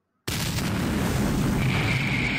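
A grenade explosion in the game Brink of Alienation bursts suddenly out of silence, then rolls on as a loud, sustained roaring rumble until the end.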